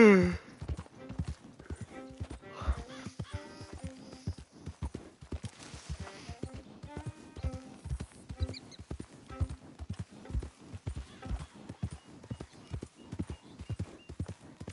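A horse in Red Dead Redemption 2 walks with a steady clip-clop of hooves throughout and gives a whinny early on, while a voice talks over the hoofbeats.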